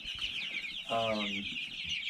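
Chickens on a farm flock of Orpingtons, Marans and Cornish cross birds, with a loud harmonic cluck or squawk near the middle over constant high chirping of many young birds close by.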